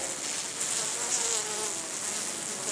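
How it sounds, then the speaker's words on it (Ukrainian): A dense, steady hum of many honeybees buzzing together inside a hive, close and continuous, with no voices. "Бджола вся біля передньої стіночки."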